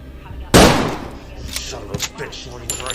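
A single sharp, loud gunshot as a man fires at Johnny, followed by fainter thumps and scattered short noises in the background.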